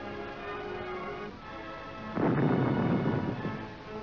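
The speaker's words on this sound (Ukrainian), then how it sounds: "Веселими громами оглашають гори Литвиненкові хлопці." A quarry blast booms through the mountains: a steady low rumble gives way to a sudden loud, broad roar that swells and then slowly fades as it echoes, with no voices.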